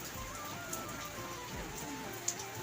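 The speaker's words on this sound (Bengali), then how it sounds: "টিপ টিপ বৃষ্টি হচ্ছে।" Light rain falling steadily as a cyclone approaches, a faint even hiss of drizzle with a few soft drip taps and no wind, heard alone at a distance.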